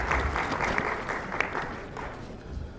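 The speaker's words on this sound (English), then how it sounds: "Please give her a big round of applause." Audience applause at a public launch of an affordable housing mortgage scheme, steady dense clapping from a crowd filling the whole moment at moderate level, with no speech over it.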